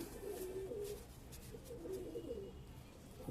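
Pigeons coo softly and repeatedly in low, rolling calls over a faint steady background hum.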